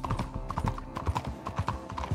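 Horse hooves clip-clopping at a steady walking rhythm in Red Dead Redemption 2, in a city street setting, fairly close and clear with no talk over them.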